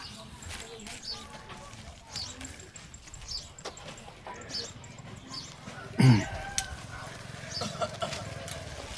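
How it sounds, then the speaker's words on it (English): A chicken clucks at a Cambodian landfill where children live, a sparse sound within busy outdoor background noise and nearby talking, with one sharper, louder burst near the end. "there's a chicken in there"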